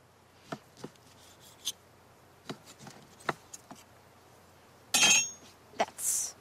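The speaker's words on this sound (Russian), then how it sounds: "Сначала режем мясо полосками." A knife cuts raw meat into cubes on a board, a string of sparse, sharp taps at irregular intervals, close and quiet, ending in a louder scraping clatter.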